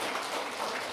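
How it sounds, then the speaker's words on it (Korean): A church congregation applauds, a dense, steady wash of many hands clapping at once, moderately loud and even throughout the brief moment with no voices on top. "우리 마음을 담아서 뜨겁게 박수로 격려해 주시겠습니다"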